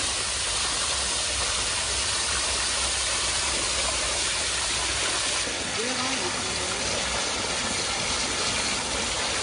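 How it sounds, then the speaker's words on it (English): Water gushing steadily into an automated dairy cattle footbath, a loud continuous broadband rush and hiss that holds level throughout with no pauses. "you can see the water coming in"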